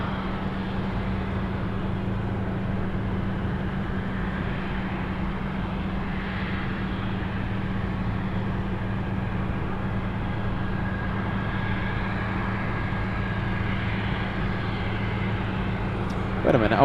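Korean Air freighter jets at Anchorage airport, Alaska: a steady, distant engine roar and hum holding level throughout, with a brief louder rustle at the very end.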